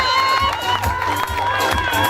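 A crowd cheers and claps in a lively burst, with excited voices and shouts mixed into steady applause.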